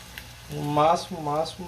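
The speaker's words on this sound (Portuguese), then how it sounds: "a gente pega o óleo já quente, no ponto de fritura" Crab and cassava coxinha fry in hot oil at frying temperature, a soft, steady sizzle running under a louder humming, voice-like tone that swells twice.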